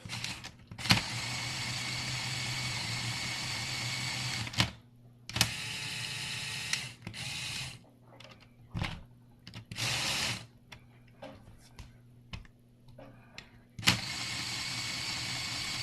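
A Lego Formula 1 car on a jack stand with its gearbox engaged and motor spinning the wheels, giving a steady whirring mechanical drone that stops and restarts several times, with short clicks and rattles in the gaps.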